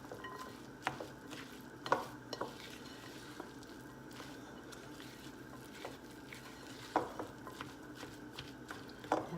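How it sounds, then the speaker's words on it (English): Flour is stirred into a bean mixture for vegan meatballs, making soft scraping and clinking strokes in a bowl, spaced irregularly and fairly quiet at close range. "mix that up some more"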